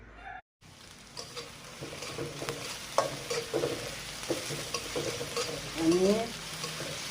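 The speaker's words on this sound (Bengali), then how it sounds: "কাঁচা ঝাল, পেঁয়াজ, রসুন ভেজে নিচ্ছি" Green chili, onion and garlic sizzle steadily in a frying pan, a continuous crackling hiss with occasional spoon scrapes, briefly interrupted near the start while a voice speaks a word.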